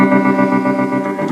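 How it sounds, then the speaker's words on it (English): A sustained electric guitar chord played through a vibrato pedal wavers with a steady pitch wobble, loud and close, the tone shimmering as it rings out. "basically 3 different vibratos that are kind of different paces and depths"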